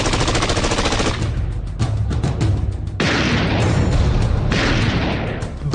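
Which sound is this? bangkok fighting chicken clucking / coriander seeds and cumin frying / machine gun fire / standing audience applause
machine gun fire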